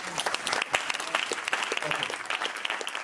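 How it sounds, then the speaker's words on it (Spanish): A church congregation applauds, a dense, even wash of many hands clapping at moderate distance, steady for a few seconds with no voices on top. "Denle un aplauso al Señor."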